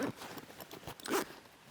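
A large YKK zipper on the main compartment of a Cotopaxi Cusco 26 daypack is drawn open in a couple of close, rasping pulls, with the loudest stretch near the end.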